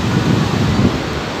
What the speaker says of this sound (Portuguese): Olha a praia aí, cara.